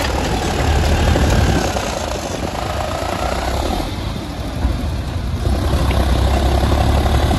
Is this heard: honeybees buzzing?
no